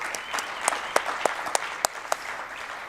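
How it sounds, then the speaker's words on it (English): An audience at a small business summit applauds the team and volunteers, a short burst of scattered, fairly sparse clapping with distinct individual claps standing out over a soft hall background. "Let's give them all a round of applause, including all the volunteers that have brought us here together"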